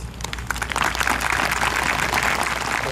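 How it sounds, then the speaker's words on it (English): A high school graduation crowd claps in sustained, loud applause, many hands blending into a dense, even roar for about three seconds. "clap your hands and dismiss me with applause from the stage"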